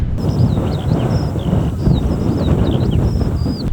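Strong wind blowing across an open hilltop, buffeting the microphone in loud continuous gusts, with faint high bird calls audible through the rush.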